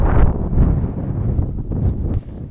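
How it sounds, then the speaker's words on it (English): Strong wind blows against the microphone at a winter wild camping site, a loud, continuous buffeting roar that surges and dips with gusts, with no voices. "It's not like the cold that bothers me. It's the wind."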